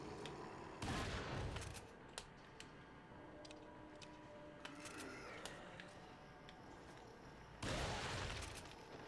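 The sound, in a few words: gunfire headshots in Resident Evil 4 video game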